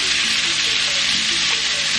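Chicken sautéing in brown sugar and oil gives a loud, steady, close sizzle, a dense unbroken crackle with faint stirring underneath and no speech.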